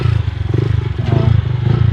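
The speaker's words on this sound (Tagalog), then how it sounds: "ako nang gipaandar akong motor" A motorcycle engine idles close by during a wash, thumping in a fast, even low pulse with some rattly clatter on top.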